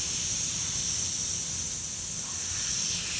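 An airbrush sprays paint with a continuous, loud, even hiss that holds steady throughout, close to the listener, during custom auto painting on a 1978 Chevy van.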